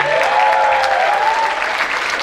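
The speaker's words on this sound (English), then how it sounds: "One more round of applause for Mr. Deke Dickerson." An audience at a Viva Las Vegas rockabilly guitar show applauds a performer, a dense, loud burst of clapping that runs throughout. A faint sustained guitar-like tone lingers underneath at the start.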